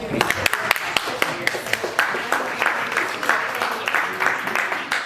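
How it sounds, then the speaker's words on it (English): People at a monthly GLA meeting give Heather a round of applause, with sharp claps close by that settle into lighter, steady clapping and a little talk underneath. "So let's give Heather a round of applause."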